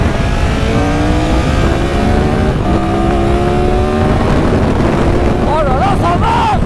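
A Triumph Tiger 1200 from 2022 ridden through a run of small bends, its engine note rising and falling in steady sweeps under strong wind rush, with a voice talking over it.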